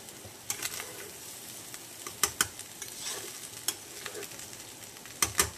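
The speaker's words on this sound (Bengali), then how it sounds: "এবার এগুলোকে ভালো করে নাড়াচাড়া করতে হবে" Rice, chicken, egg and vegetables are stirred in a pan, the utensil scraping in sharp irregular clicks over a faint steady sizzle, with no talking.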